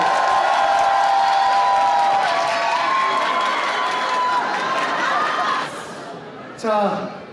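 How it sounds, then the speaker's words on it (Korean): Wedding guests in a hall burst into loud, sustained applause and cheering with whoops, broad crowd noise filling the room for several seconds before it drops off and a voice cuts in near the end. "다시 한번 큰 박수 부탁드립니다."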